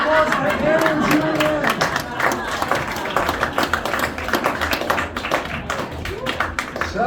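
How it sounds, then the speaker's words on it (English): Audience at a magic show at House of Cards in Nashville breaks into lively applause and cheering, dense clapping filling the room while a host's voice carries over it. "A big round of applause for Aaron and"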